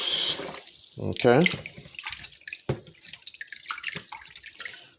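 Saltfish rinsed under a running kitchen tap, a steady splashing water stream with brief louder gushes, while a person speaks briefly over it.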